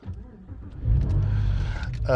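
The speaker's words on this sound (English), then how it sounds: "we'll end the video with me just starting her up, and like you can experience what it's like on start up" A Porsche engine, cold, cranks and fires, its low rumble swelling loud and steady close by after a short quieter stretch, with a faint higher whine near the end.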